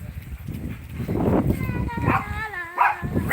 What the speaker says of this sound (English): it's at the fence, barking at the people next door